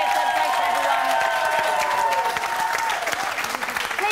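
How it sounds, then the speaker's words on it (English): A television studio audience gives a loud, continuous round of applause with some cheering mixed in, sustained for several seconds before thinning slightly near the end. "Big round of applause for Tree."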